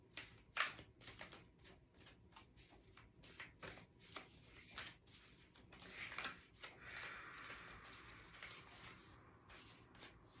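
A deck of cards being shuffled up close, quick papery riffles and soft rubbing in bursts, fairly quiet and without talk.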